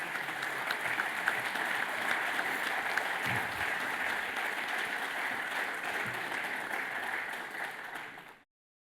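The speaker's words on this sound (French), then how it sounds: "Tous les applaudissements de la foule en délire" An audience at a regional football awards ceremony breaks into steady, sustained applause, a dense wash of clapping that fades out at the end.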